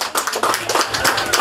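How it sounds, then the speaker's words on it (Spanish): Wedding guests clap warmly for the godmother in a dense, fairly loud run of hand claps that fills the whole moment, with no talk over it. "un aplauso para ella"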